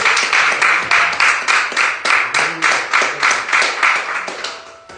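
Congregation at a Pentecostal church service applauding together, clapping in rhythmic bursts of many hands that pulse steadily and loudly, with faint voices underneath.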